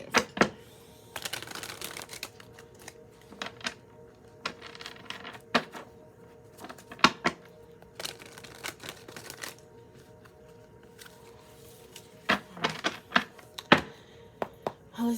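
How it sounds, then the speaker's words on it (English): Oracle cards are shuffled by hand in bursts of quick riffling and soft slapping, close and fairly quiet, with short pauses between clusters over a hushed background. "I'll shuffle again."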